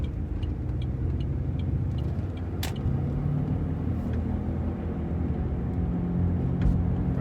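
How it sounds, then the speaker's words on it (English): A Saturn Ion engine idles with a steady low rumble, close by, with a few faint clicks and taps over it and no talking. "show you how the engine sounds right when I get out of the car"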